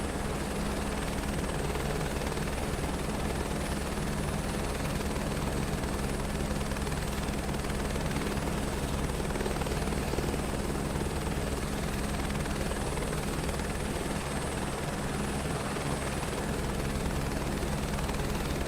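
Helicopter flying in Microsoft Flight Simulator 2024 while carrying cargo, a loud, steady rotor and engine drone that holds constant throughout, with no talking.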